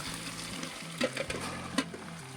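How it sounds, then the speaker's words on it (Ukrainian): Soft frying sizzle of beetroot in hot sunflower oil, faint and continuous, with a few light clinks and stirring knocks. "Нагріваю і висипаю буряк."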